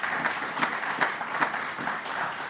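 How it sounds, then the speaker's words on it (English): Audience applause at an agricultural news event, a steady patter of many hands clapping for the whole short stretch with no voices over it. "That's also something worth a clap or two."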